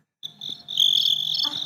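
A chirping crickets sound effect plays after a joke on a live show, a short high trilling chirp, clear and alone with faint low noise beneath.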